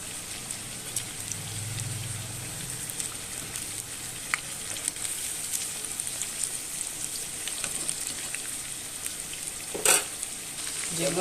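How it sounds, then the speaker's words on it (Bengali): Pumpkin leaf chops fry in hot oil and get turned over, a steady soft crackle and hiss throughout with a few sharper clinks of the utensil near the end. "এরকম করে উল্টে পাল্টে লাল লাল করে ভেজে নিচ্ছি"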